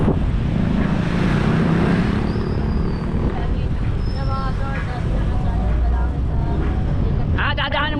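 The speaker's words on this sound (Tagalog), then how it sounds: "first time ko lang makasakay kay Busdik ng van. Ayong pick up" Steady roar of wind and road noise from riding in the open back of a pickup, engine rumble underneath, with brief faint voices toward the end.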